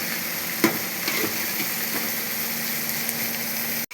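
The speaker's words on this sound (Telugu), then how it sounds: "ఇలా వీటిని కొంచెం ఈ ఉల్లిగడ్డ దీంట్లో మంచిగా ఫ్రై చేసుకుందాం." Dried fish and onions fry in oil, giving a constant sizzling hiss with a few soft stirring knocks, then a sudden break at the very end.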